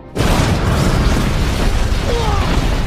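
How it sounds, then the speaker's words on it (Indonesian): A fuel storage site explodes in a film scene after a remote detonator is triggered. A sudden, very loud blast gives way to a sustained, roaring rumble of fire and debris that holds for several seconds. "tempat bahan bakar mereka meledak"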